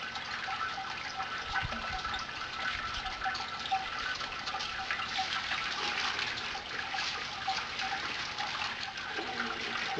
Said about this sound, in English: This is draining reasonably, probably a little bit quicker than I would like